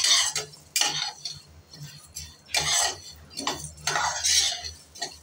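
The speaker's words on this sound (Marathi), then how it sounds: "आपण हे कोरडेच भाजलेले आहेत आणि जरा तडतडेपर्यंत चांगले भाजायचे आहेत." Seeds dry-roasting in a pan and being stirred, giving repeated scraping clinks of a utensil against metal in irregular bursts, close and fairly clear with no talking.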